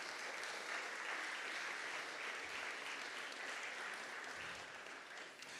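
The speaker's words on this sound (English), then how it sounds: "one round of applause for all the presenters to the Tech Challenge" An audience applauds presenters at a tech challenge during an innovation and entrepreneurship awards night, a dense, steady wash of clapping from a large crowd lasting the whole stretch without voices.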